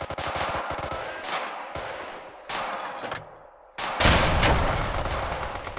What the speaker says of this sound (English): Whoa, there's heavy arty as well.